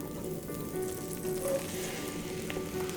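Sliced button mushrooms sauté in melted butter in a pan, giving a soft, even sizzle with faint crackles, close by and fairly quiet, without any voices.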